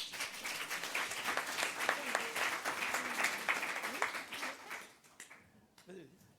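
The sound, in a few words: applause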